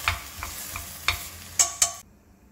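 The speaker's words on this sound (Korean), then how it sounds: "썰어두신 양파는 냄비에 올려서 소금 넣으시고 버터 넣으시고 버터가 녹고 잘 섞일 정도로만 저어주시고요" Onions stirred with salt and butter in a pot give a soft sizzle under scraping and clinking strokes, several sharper knocks against the pot, then quiet.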